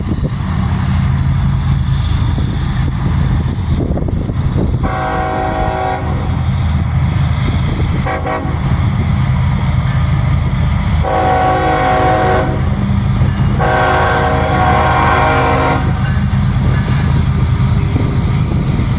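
A CSX freight train led by an AC locomotive rolls past close by, a steady loud rumble of wheels and cars with several long blasts of the horn sounding over it.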